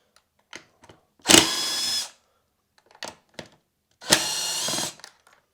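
Power driver spinning out the rear bolts on a 62cc Perla Barb chainsaw, two loud whirring bursts of about a second each with light clicks and handling taps between them, close up.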